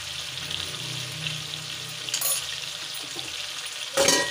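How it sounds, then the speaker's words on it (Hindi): Vegetables for sambar sizzle and fry in a pan, giving a steady crackling hiss broken by scraping stirs, with a louder stroke near the end. "चलाते रहें।"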